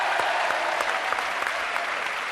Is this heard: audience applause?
yes